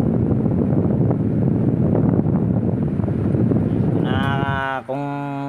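A box fan at top speed roars with a loud, steady rushing whoosh, then near the end a humming, tonal motor whine rises over it.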